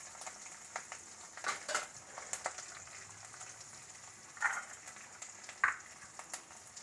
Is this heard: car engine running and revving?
no